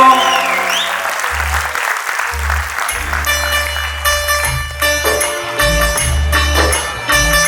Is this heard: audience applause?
yes